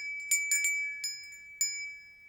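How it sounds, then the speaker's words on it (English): A reindeer bell rings in bright, clear strikes as the animal walks down from a mountain, with a few uneven clusters of chimes separated by short pauses and ringing tones sustaining between them. "the reindeer bell, as she was walking down from the mountain."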